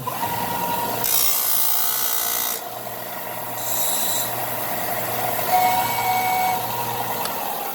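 A power sander works a wooden pan flute pipe, giving a close, gritty rasping hiss that surges in several bursts over a low steady hum, with no voices.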